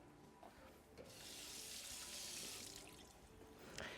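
Tap water runs into a sink as a cup is rinsed beneath it, a steady close rush of water that swells after the first second and fades near the end, with light clinks at the start.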